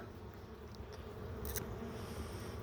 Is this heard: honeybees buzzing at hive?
yes